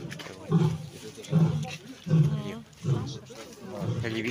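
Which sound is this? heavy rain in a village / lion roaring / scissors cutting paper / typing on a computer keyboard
lion roaring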